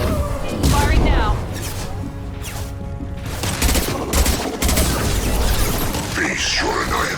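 Weapon fire in the Mass Effect 2 video game, repeated loud bursts and booms of automatic shooting close by, with a brief lull midway and game voices talking over parts of it.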